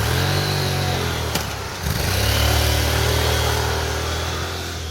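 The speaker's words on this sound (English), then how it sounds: "put the transmission into first gear, then accelerate the motorcycle out of the intersection" A motorcycle idles at an intersection, then shifts into first gear with a brief dip and accelerates away, its engine rising steadily and loud throughout.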